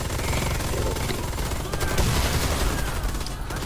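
Gunfire in the shooter game Warface keeps up almost without a break, with rapid automatic bursts and scattered shots piling into a dense, loud fusillade and a voice heard faintly underneath.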